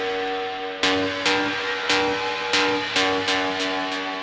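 Industrial techno synth lead plays a series of sharp, evenly spaced stabs over a sustained harmonic drone, loud and without any talk.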